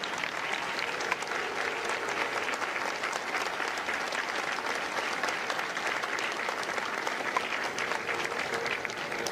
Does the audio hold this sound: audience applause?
yes